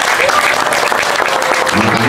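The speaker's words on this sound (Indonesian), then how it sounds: "Tepuk tangan untuk acara." A crowd at an Islamic dzikir manaqib prayer gathering breaks into loud, close applause, dense continuous clapping that holds for the whole stretch.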